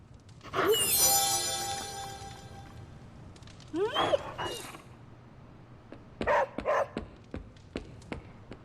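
A dog barks in the video game Marvel's Midnight Suns, giving a few sharp barks and yips spaced over several seconds against a quiet background.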